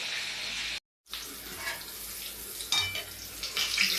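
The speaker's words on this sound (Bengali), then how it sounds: "এবার আমি পটলটাকে এবার গোটা গোটা ভেজে নেব।" Whole pointed gourds (potol) fry in a pan with a steady close sizzle, briefly cut off near the start, then resuming with occasional louder spatters and utensil scrapes.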